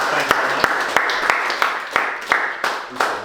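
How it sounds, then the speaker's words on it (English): A crowd at a local football club gathering gives a short burst of clapping for the players who filled in. Separate claps are spaced fairly evenly, moderately loud and nearby, with a faint murmur of voices underneath. "round of applause for everyone that filled in"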